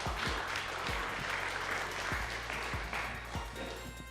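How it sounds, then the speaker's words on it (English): Church congregation clapping to celebrate a member's new job, a fairly quiet wash of many hands with a few sharper, closer claps standing out over low background hum. "We'll clap for that."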